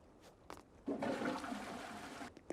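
A toilet flush in the Animal Crossing video game: a couple of faint clicks, then a bright swirling rush of water lasting about a second and a half, quiet overall, before fading back to near silence.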